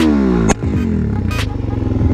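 A motorcycle with a flame-shooting aftermarket exhaust revs up, drops off sharply, then burbles and climbs again in a loud, close, uneven rhythm, with a few sharp clattering pops.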